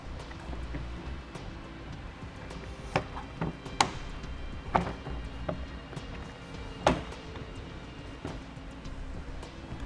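Plastic hitch cover door on a 2015 Chevrolet Traverse being pressed back into place, a handful of sharp clicks and taps spread unevenly over steady low background noise, close and fairly quiet.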